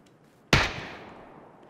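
A single sharp gunshot in a video game cracks out loud and close, then decays into a long fading reverberant tail.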